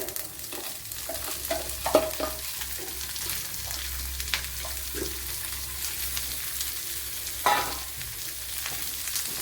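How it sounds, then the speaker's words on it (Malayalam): Shallots and green chillies dropped into frying garlic and ginger, a close, steady sizzle with several utensil clinks and scrapes as the pan is stirred. "വെളുത്തുള്ളി ഇഞ്ചി നല്ലപോലെ ഫ്രൈ ആയി വന്നിട്ടുണ്ട് അതിലേക്ക് ഇനി കൊച്ചുള്ളി ഇട്ട് കൊടുക്കുക"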